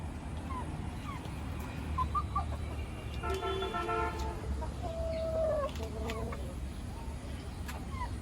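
Bahama chickens and roosters at a hatchery cluck and call in short bursts over a low, constant background rumble, with a brief harmonic cry rising in the middle.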